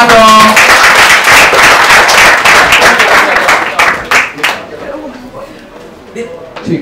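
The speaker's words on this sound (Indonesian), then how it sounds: "Tepuk dong." Audience applause at a stand-up comedy show: a dense burst of clapping, loud at first, then thinning into scattered claps with voices talking underneath.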